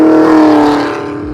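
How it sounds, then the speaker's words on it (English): Supercharged V8 exhaust of a sixth-generation Chevrolet Camaro ZL1, a loud, close, strongly tonal engine note that holds steady and then eases slightly as revs drop, with no talking. "not many things sound better than a supercharged V8"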